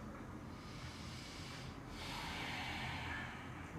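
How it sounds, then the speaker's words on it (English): During a vinyasa yoga practice, a long, deep Ujjayi breath draws in and out as a soft, steady hiss. It is faint and close, with no other sound. "take a deep, long Ujjayi breath"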